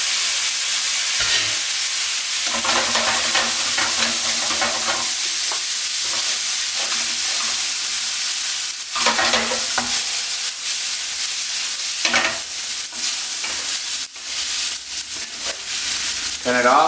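Carbonara ingredients sizzle loudly in a hot frying pan, with a constant frying hiss and occasional scraping and clattering from stirring.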